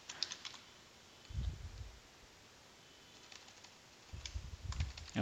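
A password is typed on a computer keyboard in a few quiet bursts of close key clicks separated by pauses, with low thumps and a faint background hum.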